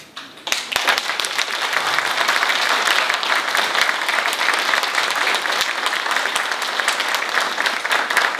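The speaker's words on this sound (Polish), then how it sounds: "gorące brawa i podziękowania." Sustained applause from an audience after a stage play, dense steady clapping that starts abruptly and continues loudly throughout.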